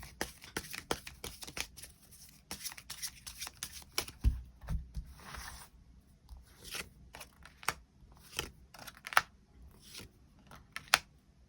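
Tarot cards being shuffled and drawn by hand, a close, quiet series of crisp riffling snaps and soft papery slides in irregular bursts, with no voice present.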